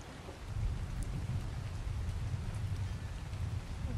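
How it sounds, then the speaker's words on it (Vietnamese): Steady hiss of heavy rain in the survival game ARK, dense and continuous throughout with a low rumbling undertone, no voices. "Mưa quá, mưa quá."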